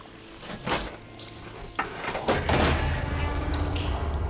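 In the video game Horizon Forbidden West, water flow switches on: scattered mechanical clunks and knocks, then a rising rush of flowing water that settles into a steady stream.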